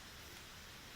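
Steady rain hisses as a dense, even wash of noise in the video game Genshin Impact, quiet and unbroken through the short stretch.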